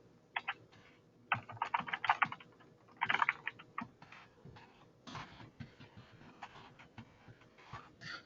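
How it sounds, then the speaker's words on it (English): Bursts of typing on a computer keyboard, quick uneven runs of clicking keystrokes with short pauses between them, close and fairly quiet, with no talking. "So I'll go ahead and type that in."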